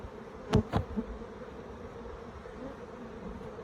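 Honey bees in a crowded hive in the Orara Valley buzz in a steady low drone throughout, with a couple of brief louder knocks near the start from hive handling.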